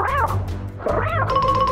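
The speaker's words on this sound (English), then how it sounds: "Is that meowing coming from inside the snake's belly?" A cartoon cat meows from inside a snake's belly, giving two drawn-out, wavering meows followed by a shorter cry, loud and close with no talking.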